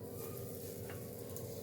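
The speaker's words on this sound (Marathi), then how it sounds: "शॅलो फ्राय करायचे आहे आपल्याला, मस्त असे शॅलो फ्राय, तेल पण कमी" Cutlets shallow frying in a little oil on an oiled tawa give a steady, low crackling sizzle, even and continuous with no talk.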